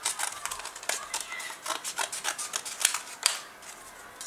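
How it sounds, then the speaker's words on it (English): Scissors snip through a paper tab for a craft monster, a quick series of close, crisp cuts with slight rustling of paper between them. "to make the teeth curve round, we're going to cut the tab like that so it folds"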